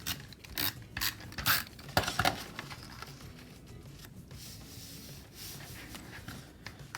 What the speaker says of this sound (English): I'm going to tape these pages together.